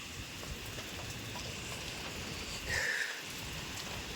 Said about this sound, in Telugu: భయంకరంగా పడింది వాన